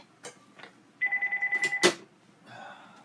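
A telephone rings nearby in a short burst of rapid electronic trills about a second long, ending in a sharp click, with faint background noise around it.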